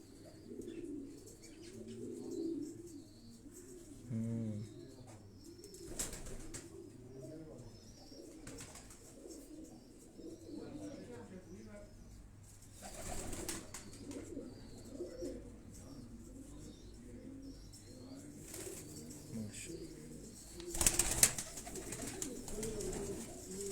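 Fancy pigeons coo in soft repeated bursts close by, with chirps and an occasional flutter of wings, while people talk intermittently over the birds.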